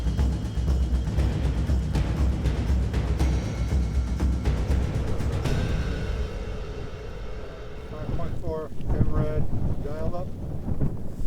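Wind buffets a microphone outdoors during a long-range hunt in hilly country, making a continuous loud rumbling roar. Voices talk over it near the end.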